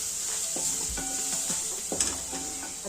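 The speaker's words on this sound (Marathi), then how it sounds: "आता हे सगळे कोरडे मसाले टाकून हे पण परत असं परतून घ्यायचं" Dry spices, salt, chilli powder and turmeric, being stirred and fried in a pan for methi matar malai, with a steady sizzle and a few scraping stirs of a spoon, close up.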